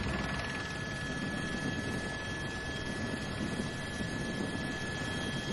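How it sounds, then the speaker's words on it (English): A helicopter flies overhead above an IMOCA ocean racing yacht off Alicante, its engine and rotor making a steady, continuous drone that stays level throughout with no voices. "let's go to the helicopter at the moment, and let's get a view from the sky with Jesse Fielding up there"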